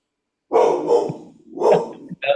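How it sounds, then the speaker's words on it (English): A dog barks in bursts at someone outside, loud and close, with two or three harsh barks followed by a shorter yelp at the end. "The dog's having a go at whoever's outside."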